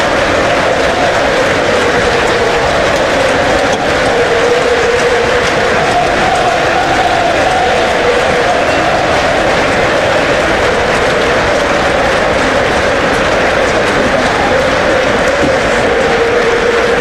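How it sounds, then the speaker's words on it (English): Sustained crowd applause fills Trent Bridge cricket ground on the final day of England's record run chase, a dense, steady roar that holds at full strength throughout with no pause. "Let's sit back and listen to the applause."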